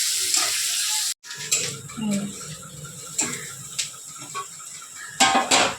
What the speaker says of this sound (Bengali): দেখো বন্ধুরা দেখেছ পেঁয়াজটা ভাজা ভাজা হয়ে গেছে